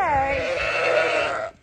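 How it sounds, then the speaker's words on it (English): A ewe bleats loudly and close during lambing, held down in a lambing pen, one long wavering cry that trails off at the end. "He's holding the ewe down."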